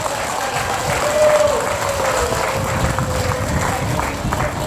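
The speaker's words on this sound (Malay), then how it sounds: "kita berikan tepukan kepada semua tuan-tuan." An audience at an evening community gathering applauds in a noisy room, the clapping mixed with crowd murmur and a faint voice over a steady background hum.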